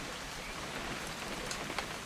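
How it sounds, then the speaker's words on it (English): Steady, soft patter of rain in the video game What Remains of Edith Finch, faint and even throughout with occasional light drips and no voices. "It's gonna rain the whole weekend,"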